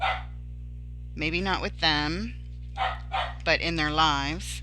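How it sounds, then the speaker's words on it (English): Small dogs bark indoors, short sharp barks at the start and near the end, while someone talks steadily through most of the clip. "Sorry about the pups barking."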